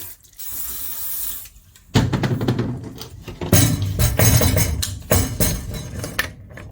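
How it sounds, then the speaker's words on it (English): A brief hiss of WD-40 multi-purpose cutting oil is sprayed onto 6mm cable, followed by clinks and handling noises as work on the cable joint continues nearby. "A little spray of the WD-40 multi-purpose cutting oil because it's fantastic."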